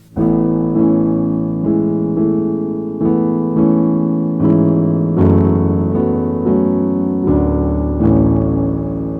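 A piano plays a song as a full, sustained passage of chords with a bass line beneath, changing roughly every second. It is close and fairly loud, with no voices.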